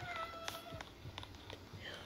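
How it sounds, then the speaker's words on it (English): Pet cat meowing indoors, a few short high meows spread over two seconds against faint background noise, close but quiet. "It's my cat, Sebastian, if you guys heard that"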